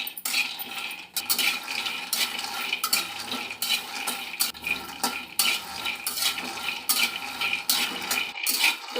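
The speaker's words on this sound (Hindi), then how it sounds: "अब भून लेते हैं अपना मूंगफली।" Peanuts dry-roasting in a kadai, stirred continuously with a dense rattling, scraping clatter of nuts and spoon against the metal pan for the whole stretch, close and busy, with no voices.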